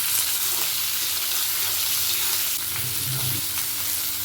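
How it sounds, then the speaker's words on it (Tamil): Finely chopped onions with three green chillies and curry leaves sizzle and fry steadily in a pan until golden, a constant close crackle with a few soft stirring scrapes near the end. "ஒரு 3 பச்சை மிளகா, கருவேப்பிலை, கொஞ்சம் நல்லா பொன்னிறமாக வதங்கணும்."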